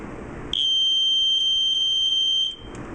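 A 1980s First Alert smoke alarm under test gives one loud, piercing high-pitched tone that holds steady for about two seconds and then stops, heard alone with a quiet background before and after.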